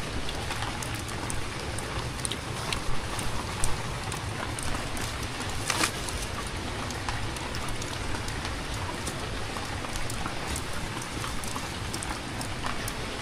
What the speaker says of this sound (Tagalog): Hindi natin mahihintay na huminto po yung ulan.